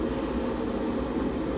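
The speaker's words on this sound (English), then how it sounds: "That's the kettle." Steady broadband rushing roar from an electric kettle heating water for gravy in a home kitchen, constant and fairly close with no pauses or talk.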